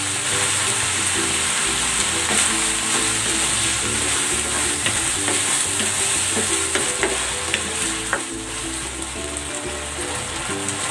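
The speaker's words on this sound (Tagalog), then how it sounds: "Maglalagay na ako dito ng tomato sauce." Tomato sauce hits sizzling ground meat seasoned with soy sauce and pepper in a pan. A loud, steady frying hiss runs throughout, with stirring scrapes and no talk.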